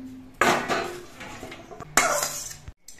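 A metal cooking pot of boiled banana stem is lifted and set down off a gas stove in two clanking bursts, close and loud, followed by a short silence; there is no talk.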